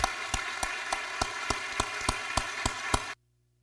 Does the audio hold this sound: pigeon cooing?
no